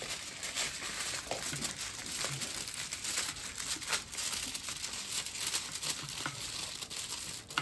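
Aluminum foil wrapped around oven-baked ribs crinkles and rustles steadily and close by, a dense crackling texture with no speech.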